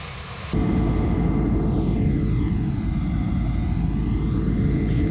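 A broad, steady roar of jet engines rises suddenly and holds loud in an MD-11 airliner in the Prepar3D flight simulator as the landing gear retracts, with a faint falling whine sweeping under the roar.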